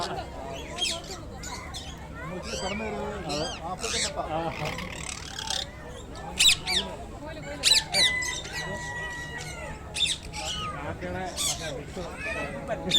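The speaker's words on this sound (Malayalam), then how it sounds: "ഇത് മൊത്തം തത്തകളെ, തത്തയുടെ പല പറഞ്ഞായിരിക്കും" Parrots of many colours at a small zoo in Ajman give repeated sharp squawks and chirps that overlap with steady chatter and speech from visitors nearby.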